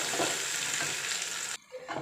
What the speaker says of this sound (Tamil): இப்போ நம்ம அரைச்சி வச்சுருக்க பீக்கங்காய் அதில் போட்டு நல்லா வதக்க போகிறோம்.